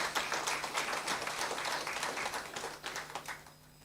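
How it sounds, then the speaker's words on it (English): Applause for young sports champions at an athletics awards ceremony, a crowd's quick, dense clapping that is faint and somewhat distant, holding steady before tapering off at the end. "A round of applause for them once again."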